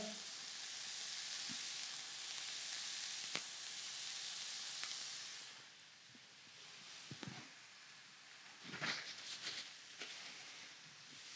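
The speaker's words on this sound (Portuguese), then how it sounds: "Deixar estar aqui bem em contato com a frigideira para poderem saltear" Mushrooms and grated pumpkin sizzle steadily in a frying pan, a loud broad hiss that drops partway through as they are stirred, with scattered spoon scrapes and taps.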